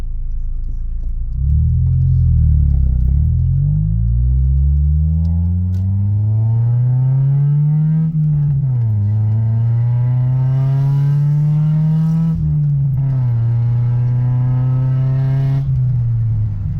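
A car accelerates hard nearby, its engine revving up loudly through several gear changes with rising pitch sweeps, then holding a strong steady drone.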